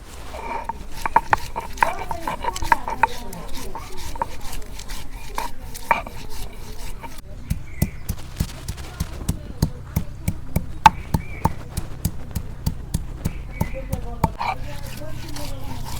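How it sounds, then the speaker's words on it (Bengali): Spices ground by hand on a stone for village-style chicken kosha, with close, rhythmic scraping and knocking strokes repeating steadily throughout. "এই দেখো মশলাগুলো আমি সব বাইডা নিলাম।"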